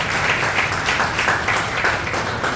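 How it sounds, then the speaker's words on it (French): Audience applause at a comedy show in a resto-bar, steady dense clapping filling the room at moderate loudness, continuous throughout with no voices over it. "Donnez une grosse applaudissement à l'organisation pour organiser ce spectacle ici."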